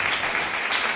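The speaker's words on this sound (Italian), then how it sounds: "un applauso." Brief burst of dense audience applause at an outdoor country music event, steady and close for about a second.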